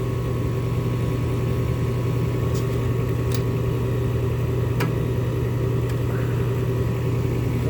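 A Coleman gas furnace with its gas valve open runs as a steady, loud, low hum and drone, broken now and then by faint clicks.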